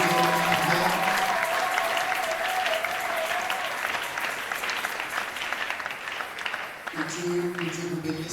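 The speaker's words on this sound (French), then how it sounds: "Est-ce que vous pouvez acclamer pour ceux qui ont" Church congregation at a pastor's service breaking into loud, sustained applause that swells and then tapers over several seconds, with sustained tones at the start and end.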